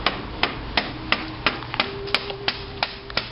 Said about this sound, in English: I'll just use the screwdriver